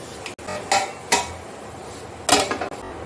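A metal lid clatters onto a pan of wild greens (bathua) cooking on a home stove: a few sharp, close clinks and scrapes of metal on metal, spaced irregularly over a steady low hiss.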